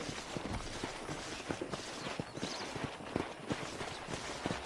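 Steady clip-clop of horse hooves walking at an even pace in the video game Red Dead Redemption 2, close by, with faint creaks and no talking.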